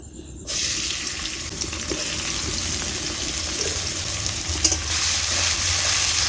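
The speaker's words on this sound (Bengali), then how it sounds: "এবার এতে আমি পেঁয়াজ কুচিটা দিয়ে দেব।" Chopped onions hit hot white cooking oil in a heated wok, bursting into a steady, loud sizzle after a brief quiet start, with occasional stirring scrapes and no voices.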